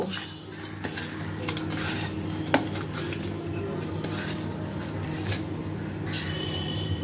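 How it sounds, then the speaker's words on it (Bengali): Pieces of pabda fish being mixed by hand with salt and turmeric in a bowl, giving a constant background hum with soft clinks of metal utensils on dishes and a few wet handling sounds, close and without talk. "নুন হলুদ দিয়ে মাছগুলোকে ভালোভাবে মাখিয়ে নেব"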